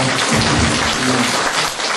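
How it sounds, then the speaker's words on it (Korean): Dense, steady audience applause fills a hall at a charity fundraising night held by a Korean benevolent association, a continuous wash of many hands clapping close by with faint voices underneath. "박수 한 번 주시죠"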